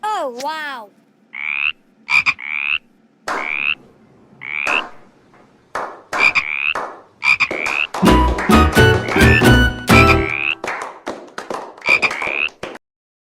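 Frogs croak loudly and close by in repeated bursts, sparse at first and then building into a dense, overlapping chorus before thinning out, in an animated short.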